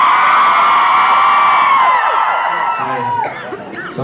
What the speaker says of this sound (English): So, ladies, I need you to scream!